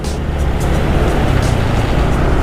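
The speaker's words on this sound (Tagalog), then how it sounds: "naririnig nyo naman na mas maingay pa yung tambutso nya kumpara dun sa tambutso ng big bike" Loud, steady motorcycle exhaust roar with a silencer fitted, louder than a big bike's, rumbling continuously close by with a broad low-frequency drone and no talk.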